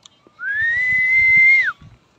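A single clear whistle holds one steady note for about a second, rising at the start and dropping off at the end, close by with faint background noise.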